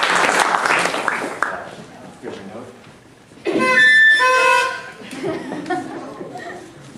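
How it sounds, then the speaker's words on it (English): A short burst of clapping and cheering from a crowd at a bar mitzvah celebration rises after some talk, mixed with chatter and a few high whoops. "Round of applause for our bar mitzvah boy."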